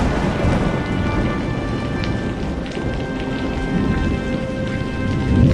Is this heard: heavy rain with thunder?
yes